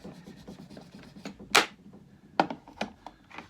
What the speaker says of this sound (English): Flattening the back.